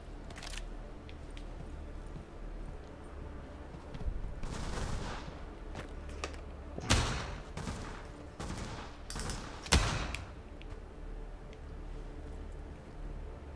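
Bursts of gunfire in the PS VR2 shooter Pavlov, several sharp shots and short volleys with a few louder cracks, over a steady low background hum.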